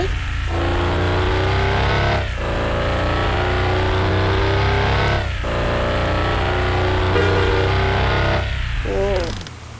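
A modded villain car from the Despicable Me 3 mod in Bus Simulator Indonesia accelerates hard, its loud game engine note rising through repeated gear shifts with steady revving and no pauses.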